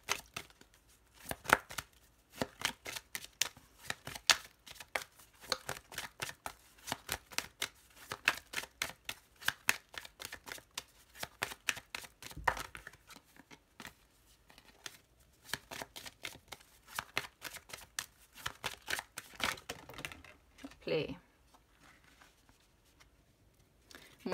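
Large tarot cards being shuffled at close range, giving rapid, repeated flicking riffles in bursts that stay steady throughout without speech.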